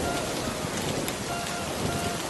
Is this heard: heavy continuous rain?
yes